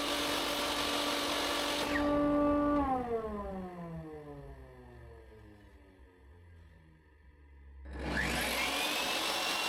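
A table saw cutting wood pieces from two sides: the blade whines at speed, spins down with a falling pitch into quiet, then starts up again near the end, loud and close.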